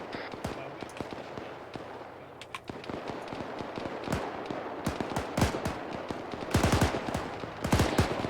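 Rapid bursts of gunfire crackle in DCS World, with irregular clusters of sharp shots and heavier volleys near the end, loud and close over a steady background rumble.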